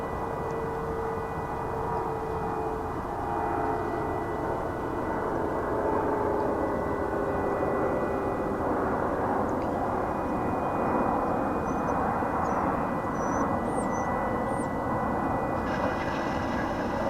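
An American Airlines plane at DFW Airport produces a steady, broad jet-engine roar with a faint whine, heard from a distance and continuous throughout.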